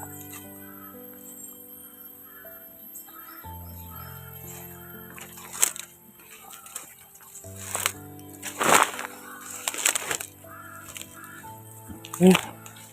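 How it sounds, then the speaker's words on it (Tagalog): Crows caw from somewhere overhead outdoors, giving a handful of harsh, scattered calls, some loud and close. Someone talks throughout over a steady tonal background. "May uwak dun sa ibabaw."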